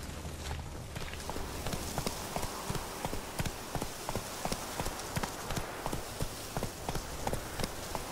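A horse gallops in The Witcher 3 video game, with fast, even hoofbeats thudding in a steady rhythm over a soft wash of ambient noise.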